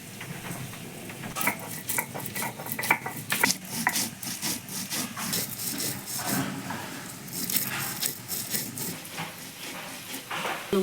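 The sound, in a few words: grinding fried spices with a grinding stone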